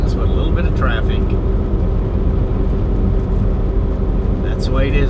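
A continuous low roar of far-off vehicles on I-40 at night out west, steady throughout, with a couple of brief higher sounds near the start and end.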